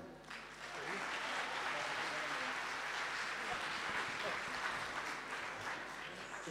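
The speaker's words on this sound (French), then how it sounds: "On peut l'applaudir." An audience at an evening arts event in France applauds, a dense, even wash of many hands clapping that swells quickly and holds steady for several seconds at a moderate distance.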